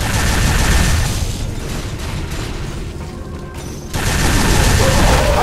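Dense, loud gunfire and booming blasts roar in an Unreal Tournament 3 match, nearly continuous and close, dipping briefly before surging back at full force.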